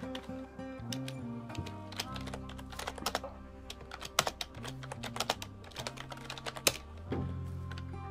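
Fast clattering keystrokes on a computer keyboard during a session of the survival game Rust, sharp clicks in quick bursts over steady game music.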